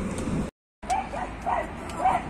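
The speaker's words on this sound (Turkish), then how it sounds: "Köpeklerimiz de kuduruyor." Farm dogs bark in a few short, excited yelps, fairly close, with a brief silent gap between outbursts.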